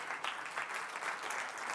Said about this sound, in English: I might even ask if you could just give Susan a round of applause for the work she's done on